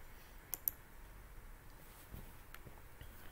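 A computer mouse clicks the New button in software, two quick sharp clicks close together, faint and close in a quiet room.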